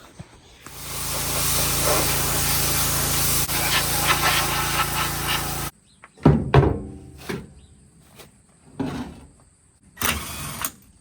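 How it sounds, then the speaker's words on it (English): A pressure washer blasts hay gook off farm machinery near a gearbox, a loud steady hiss for several seconds, then stops and gives way to clunks and short bursts of spray. "So I'll fire up the pressure washer and wash all that hay gook off the top there"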